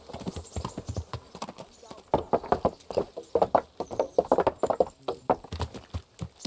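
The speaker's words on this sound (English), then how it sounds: "The horses." Horses walk in the medieval video game Kingdom Come: Deliverance, a close, uneven clip-clop of hooves with a brief snort, while characters talk over it.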